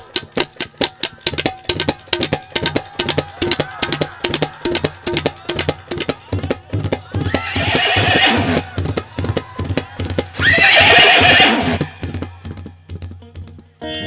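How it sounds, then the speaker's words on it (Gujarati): Two loud, drawn-out horse neighs rise over steady rhythmic folk music at a stage performance in Kutch. "કેવો ઘોડો આ પલક બાબુ,"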